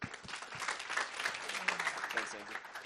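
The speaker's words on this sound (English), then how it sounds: "So a big round of applause for Andrew," Audience applause at a school open day as a teacher is introduced, fairly faint and moderately dense, with voices talking over the clapping.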